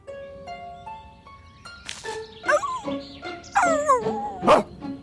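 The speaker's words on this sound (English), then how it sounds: "A dog?" A dog yips, whines and whimpers in a rising series of excited, high-pitched cries, close by, following a few soft musical tones.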